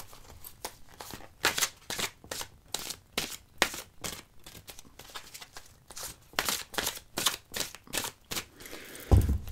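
A deck of oracle cards being shuffled by hand, a rapid, regular run of crisp riffling swishes and slaps, close and fairly quiet, ending in a thump.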